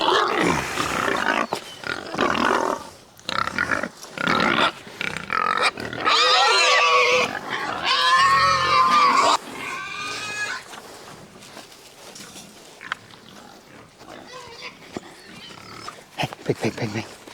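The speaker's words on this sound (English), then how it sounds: "Come on, pigs." Pigs grunt and let out loud, drawn-out squeals on pasture beside a temporary electric fence, the squealing bursting out in the middle stretch while a person calls to them between the sounds.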